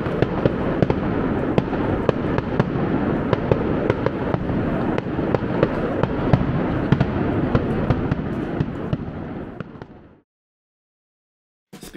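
Dense, rapid crackling and popping from fireworks over the Yubara hot spring town in Okayama, Japan, goes on continuously for about ten seconds, then abruptly falls silent.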